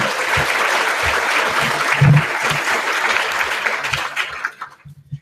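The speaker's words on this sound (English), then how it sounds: "So let's give them another round of applause." Dense audience applause at a student orientation, a full sustained round of clapping that fades out toward the end, with a few low voices under it.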